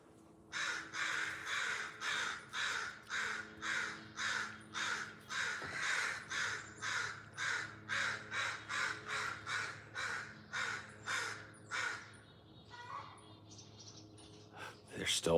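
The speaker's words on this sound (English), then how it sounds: "it's a big old fucking raven." A large raven caws repeatedly near a chicken coop in a rainforest setting, about two dozen loud, harsh calls in a steady, rhythmic series, followed by quieter rustling and a few faint sounds at the end.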